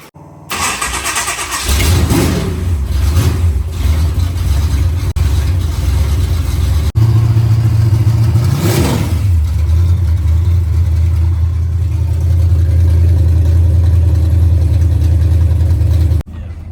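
A supercharged 406 small-block engine cranks to life and settles into a loud, steady, lumpy idle close by, with a brief blip of revving midway before the idle continues.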